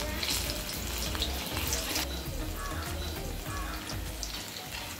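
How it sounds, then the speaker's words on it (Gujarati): Corn bhajiya fritters deep-frying in oil over a low flame, a dense, steady bubbling crackle that fills the whole stretch without pause, near and even. "મિત્રો, આ ભજીયા તળતી વખતે ગેસની ફ્લેમ તમારે લો જ રાખવાની છે"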